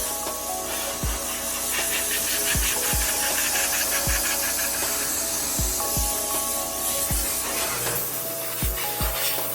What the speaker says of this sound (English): I'm utilizing the Vapor Air Blowout Gun.